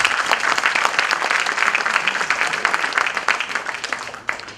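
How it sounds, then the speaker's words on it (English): A large seated crowd at a reunion gathering claps in sustained, fairly loud applause that thins slightly near the end, with no voices over it. "give a big round of applause to yourself"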